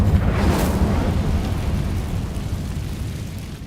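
The Incendio fire spell from Hogwarts Legacy erupts as a loud, broad whooshing burst that starts hard and slowly fades over a few seconds, with a rumbling low end and no voices.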